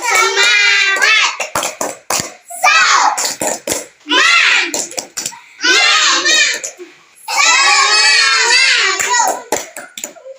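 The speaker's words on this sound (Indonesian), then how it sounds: "ayo tepuk semangat gitu. Tepuk semangat" A junior high classroom claps a rhythmic cheer together, quick patterned hand claps woven through loud children's chanting voices in several bursts.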